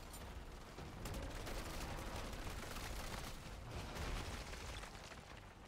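Turret fire in MW3 Zombies, a dense, continuous rattle of rapid automatic shots and mechanical clatter at moderate distance, sustained without pause for several seconds.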